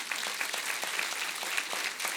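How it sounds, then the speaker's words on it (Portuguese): A church congregation claps in a thick, steady burst of applause. Many hands sound together at an even loudness throughout the short stretch. "Dê uma salva de palmas a Jesus."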